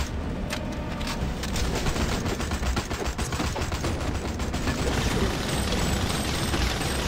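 Enemy gunfire in the Suicide Squad video game, rapid shots rattling continuously and fairly steadily across the whole stretch, mixed with busy game noise and no talking.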